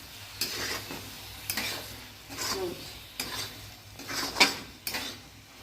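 A spoon stirs yogurt into okra curry in a pan, scraping and clinking in repeated strokes over a soft sizzle, close and fairly quiet.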